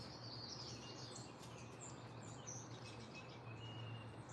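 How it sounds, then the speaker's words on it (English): Birdsong at sunrise in Charlotte from doves, house wrens and cardinals, a steady scatter of faint, fairly distant chirps and trills over a constant low outdoor hum, with no one talking. "I keep getting the same three birds: doves, house wren, and cardinals."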